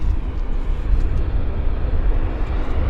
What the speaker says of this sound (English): It's a Westjet 737 from Calgary that's landing right now.